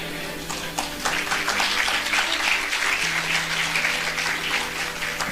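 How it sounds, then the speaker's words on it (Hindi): Audience applause at a church gathering, a dense steady clapping that fills the room, loud and sustained throughout. "देखो तालियां बज रही हैं"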